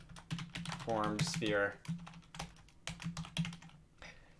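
Rapid clicking on a newly replaced computer keyboard with thick, tall keys runs throughout, dense and close, while someone speaks briefly over the keystrokes.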